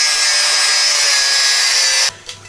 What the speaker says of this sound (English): We've completely ground them little lugs out of the frame